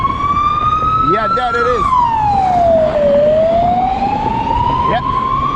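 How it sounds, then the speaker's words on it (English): An ambulance siren wailing on a Bucharest street, its loud continuous tone rising and falling as it passes close by, heard from a dirt jump bike, with brief talk over it and traffic rumble beneath. "I hear sirens behind me."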